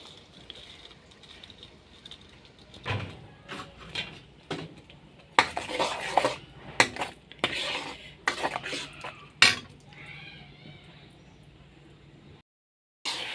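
Blended besan boondi for motichoor laddu is stirred into melted sugar syrup in a pan, giving scattered clinks, scrapes and soft stirring knocks in irregular bursts at close range.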